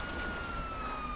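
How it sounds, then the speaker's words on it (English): A steady electronic fire engine siren in GTA V wails continuously at a near-constant pitch over a dense background rumble, loud and unbroken. "Turn off our sirens..."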